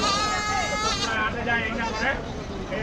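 Goats, mothers with kids, bleat repeatedly amid a busy crowd at a village livestock market in Bangladesh, with voices and general market hubbub filling the background.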